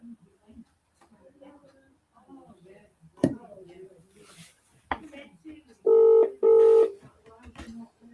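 Two loud, steady dialing tones close together near the end as a phone number is keyed to call a dad at Christmas, following a stretch of quiet, low talk.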